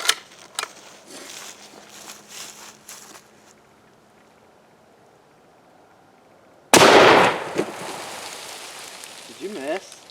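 A .458 Win Mag bolt-action elephant rifle fires one loud, sharp shot at an air compressor outdoors, the blast ringing out after quieter handling noises and faint voices, followed by people talking.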